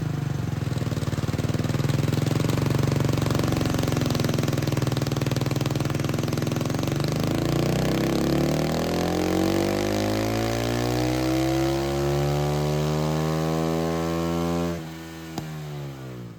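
A KTM 450 EXC single-cylinder engine revs on a dyno in a lower gear at part throttle, its loud, close buzz climbing steadily in pitch over many seconds before dropping off abruptly near the end.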